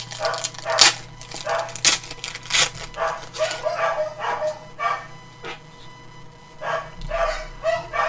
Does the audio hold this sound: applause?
no